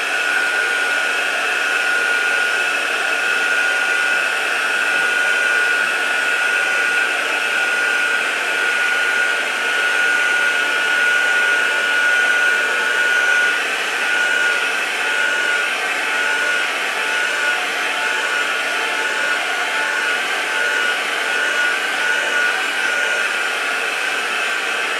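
Hair dryer blasting air to dry crackle paint on a craft project, a loud, steady whirring roar with a constant tonal whine, uninterrupted for the whole span with no talking.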